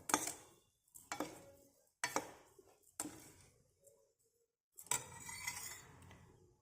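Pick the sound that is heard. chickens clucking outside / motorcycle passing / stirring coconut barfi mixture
stirring coconut barfi mixture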